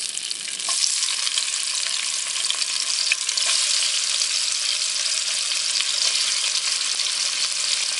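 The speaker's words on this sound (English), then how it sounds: "So now I'm gonna fry those." Vegetables and hot dogs sizzle and crackle steadily in a hot pan, a continuous bright frying hiss with occasional pops, no voices.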